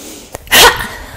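A single sharp, forceful breath, likely an exhale, bursts out briefly and fairly close during a gentle yoga breathing exercise, preceded by a faint softer breath.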